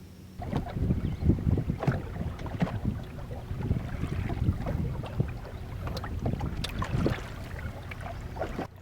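Wind and water around a wooden sailboat on a lake in a southwest breeze: a continuous rumbling buffet of wind on the microphone mixed with lapping and sloshing against the hull, steady and fairly loud throughout.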